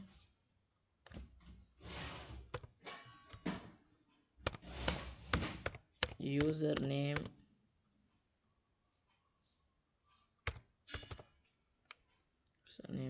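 Someone types on a PC keyboard while setting up a Google account, with irregular bursts of close, crisp key clicks separated by pauses and some speaking mixed in.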